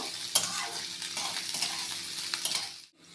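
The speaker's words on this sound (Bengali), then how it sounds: "এবার পেঁয়াজ কুচি, ক্যাপসিকাম কুচি এগুলো সবই দিয়ে দেব, দিয়ে এটাকে আমি একটু হালকা ফ্রাই" Chopped onion and capsicum frying lightly in a pan for veg Manchurian, a bright steady sizzle with stirring scrapes close by, ending abruptly, no talk.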